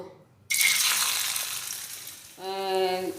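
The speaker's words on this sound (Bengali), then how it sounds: "তেলটা ভালোভাবে গরম হয়ে গেছে, এবারে পোস্তর বড়াগুলো ওই গরম তেলে দিয়ে দেব।" Poppy seed fritters hit hot white oil, a sudden loud hiss that sets in after a short silence and bubbles on steadily, with a brief clink of utensils near the end.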